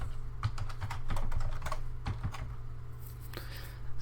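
Password being typed on a computer keyboard at a Linux terminal, a quick run of close, crisp key clicks in uneven bursts with short pauses, over a steady low machine hum.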